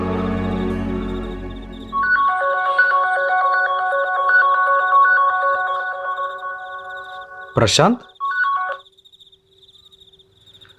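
Phone ringtone rings as a repeating electronic melody after a voice speaks at the start, then cuts off as a sharp burst and a brief voice follow.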